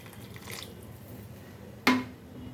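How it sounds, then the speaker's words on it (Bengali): Water is poured into a pan of frying gathi taro for a hilsa curry: a sudden, close splash and hiss that fades within half a second over a low background crackle of frying. "এবার আমার যতটা জলের দরকার আমি ঠিক ততটাই জল দেবো"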